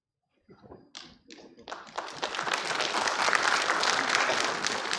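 Scattered claps from a university vice-chancellors' meeting audience quickly swell into full, dense applause that stays loud and steady to the end, with no talking over it.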